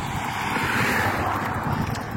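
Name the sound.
wind blowing on the microphone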